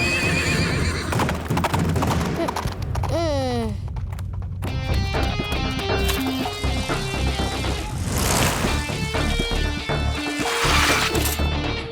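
A black horse in an animated scene neighs with a loud rising whinny, then gallops off with rapid hoofbeats, all under a continuous background music score.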